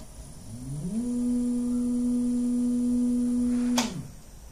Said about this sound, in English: power up the motor and show you that the kill switch works